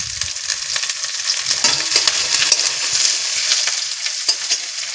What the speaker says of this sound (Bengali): ও কিছুটা রসুন থেতো করা দিয়ে দিলাম